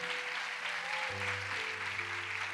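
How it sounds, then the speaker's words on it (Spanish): A church congregation claps along in a broad, even wash of applause, with a sustained organ or keyboard chord underneath shifting to a lower note partway through. "Denle un fuerte aplauso al Señor."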